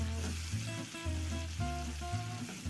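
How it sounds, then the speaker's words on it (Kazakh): Meat with tomato paste fries in a pan while being stirred, a steady close sizzle broken by repeated scraping strokes at a regular, unhurried rhythm, with no talk. "Жақсылап барлығын араластырып қуырамыз."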